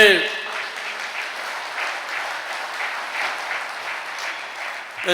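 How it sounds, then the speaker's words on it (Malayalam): A church congregation claps with raised arms, a dense and steady round of applause that fills the room close up. "ഒന്ന് കൈയർത്തി കൈയടിച്ചേ"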